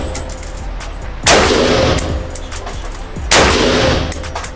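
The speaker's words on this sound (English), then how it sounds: "First time shooting a rifle." Two loud, sharp rifle shots at an outdoor shooting range, about two seconds apart, each followed by a sustained roar and echo that slowly fades.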